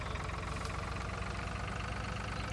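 A small Gehl tractor engine idles in Farming Simulator 2013 with a steady, low, even rumble, faint and unchanging, with no talking.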